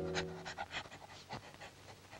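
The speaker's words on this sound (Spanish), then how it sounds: "Con el hocico pegado a la tierra, huele que huele, viene la perra" A dog pants in quick, rhythmic bursts with short sniffs mixed in, close and fairly soft, as it moves with its nose along the ground; no voices are heard.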